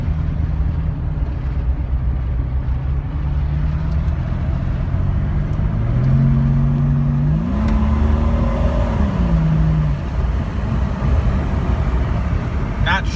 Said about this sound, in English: the intake and exhaust on this Cherokee sounds absolutely awesome.